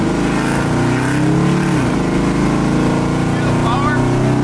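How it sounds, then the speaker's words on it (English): Supercharger blower whine on a lowered, supercharged 1965 Ford Mustang as the engine revs, a loud, steady engine roar throughout with a voice talking over it. "You hear the blower when I do that?"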